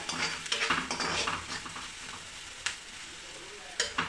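Spices fry in hot oil in a pan on a low flame for a pumpkin curry as a spoon stirs them, a soft steady sizzle broken by a few sharp scraping clinks.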